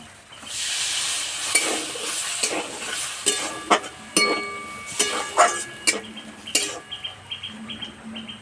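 A splash of water hits potato filling cooking in a hot pan for khasta kachori, setting off a loud hissing sizzle that fades into a series of short scraping, sputtering bursts as it is stirred.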